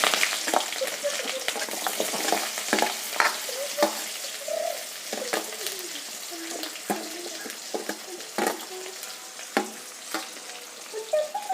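Onions sizzle in hot coconut oil that already holds popped mustard seeds, a steady broadband frying hiss running throughout with frequent sharp spoon scrapes and stirring clatters, close and fairly loud, with no talking.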